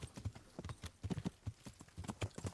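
Horse hooves clip-clop steadily on the ground in the medieval game Kingdom Come Deliverance, a brisk, even rhythm of close, clear hoofbeats with no talk over them.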